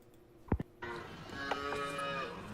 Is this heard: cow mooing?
yes